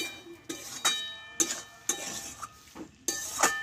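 A spoon scrapes and clinks against a pan while egg curry with onion stalks is stirred, about seven separate metallic strokes at an uneven pace, close and fairly clear.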